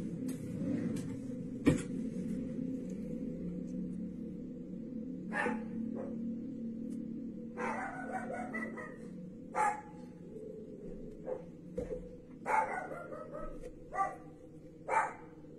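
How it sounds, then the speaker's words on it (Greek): A small dog barks in a home kitchen during baking: several sharp, separate barks come every couple of seconds over a steady low background hum, moderately near. "Αυτό που ακούτε είναι το καλό μου το σκυλάκι."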